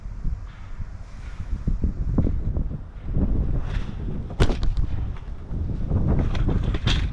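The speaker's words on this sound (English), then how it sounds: "There goes the wind." Wind gusts buffet an outdoor microphone near a North Carolina beach, a rough low rumble that swells and drops in bursts, loud and close, with scattered knocks and crackles.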